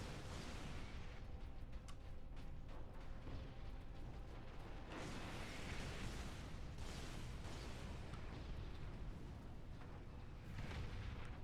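Heavy, repeated explosions in the video game Space Marine boom one after another in a dense, continuous barrage, with bigger bursts flaring every few seconds.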